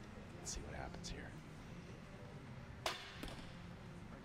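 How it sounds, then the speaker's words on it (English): In a men's barebow archery final, an arrow strikes the target with a brief sharp thud, preceded by a couple of soft whooshes, set against quiet venue background hum and faint commentary. "That's a solid arrow."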